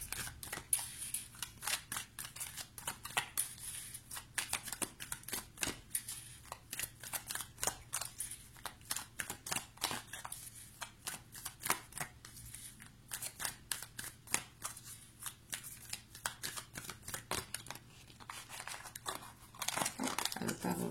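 Amethyst Love oracle cards are handled and shuffled in a steady run of crisp, papery riffles and flicks, close up and fairly quiet, with no voice.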